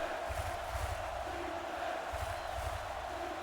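A stadium crowd in a football video game roaring for a third-down defensive stop, a steady dense wash of cheering with rhythmic low stomping swells pulsing through it.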